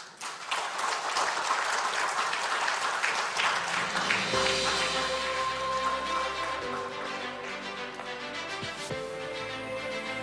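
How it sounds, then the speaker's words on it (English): An audience at the World Knowledge Forum in Busan applauds after a presentation, a dense, steady wash of clapping that continues as sustained music tones enter midway and carry on beneath it. "Please give him another big round of applause."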